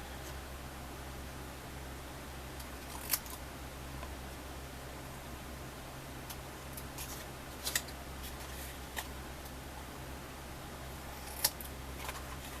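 Scissors trim paper for a handmade recipe folio, with a few faint, isolated snips spread out over a quiet, steady hum.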